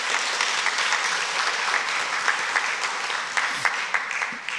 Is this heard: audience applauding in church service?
yes